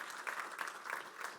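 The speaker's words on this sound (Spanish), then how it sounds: "Denle ese aplauso fuerte a Cristo" Steady applause from a church congregation, a continuous wash of clapping with slight swells, heard at moderate distance.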